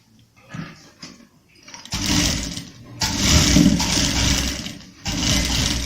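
A sewing machine stitches the edge of a kurta sleeve in three bursts, each a loud, close mechanical whir, with brief quiet gaps and lighter handling sounds before the first run.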